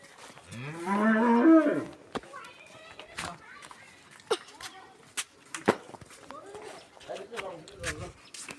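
A cow kept for Qurbani gives one loud, drawn-out moo up close, followed by scattered footsteps, thumps and children's voices in the background.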